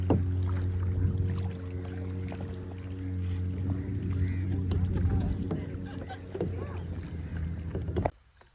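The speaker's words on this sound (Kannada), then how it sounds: "ಇಷ್ಟ ಸಣ್ಣ ಪ್ಲೇಸ್ನಾಗ ನಾವು ಕಯಾಕಿಂಗ್ ಮಾಡ್ಕೊತ ಹೊಂಟಿದೆವು." A kayak paddled along a narrow waterway near Varkala, Kerala, heard as irregular paddle splashes and water knocks over a steady low engine-like hum, with wind buffeting the microphone before the sound cuts off abruptly near the end.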